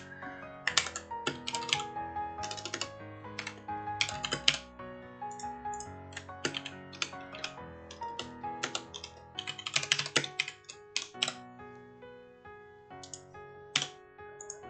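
Rapid typing on a computer keyboard: close, crisp key clicks come in irregular bursts with short pauses, quiet and alone with no talking.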